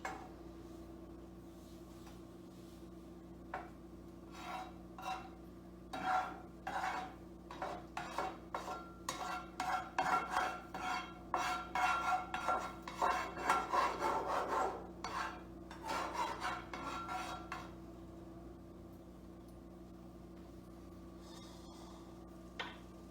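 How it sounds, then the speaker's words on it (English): Spatula scraping and pushing butter around a heating frying pan, a run of short rasping strokes growing busier in the middle, then easing off into quiet room tone near the end. "I can also use the spatula for this to push the butter around"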